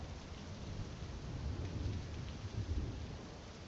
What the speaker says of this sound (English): You were hearing throughout as you guys are sleeping the rain, thunderstorms,